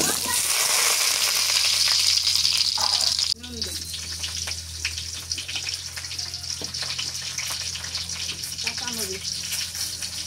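Pointed gourd frying in hot oil with nigella seeds, a loud steady sizzle that drops sharply in level partway through, then continues crackling and hissing close by, with a voice speaking over it.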